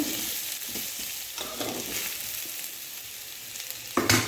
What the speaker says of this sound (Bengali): গাজর আর আলু মোটামুটি একটু ভাজা হয়ে গেছে এবারে